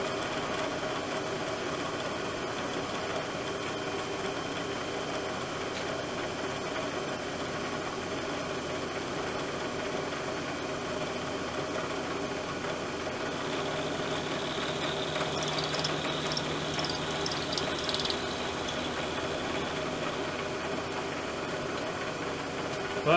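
A milling machine taking a shallow roughing cut with an HCCO roughing end mill while building radius tooling: a steady, even machining hum and whine with a faint high squeal partway through, no talking.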